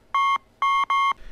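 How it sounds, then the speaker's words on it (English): A makeshift supercomputer beeps three times, steady electronic tones with the last two close together, loud and clear with nothing else over them. "Periwinkle's makeshift supercomputer starts beeping"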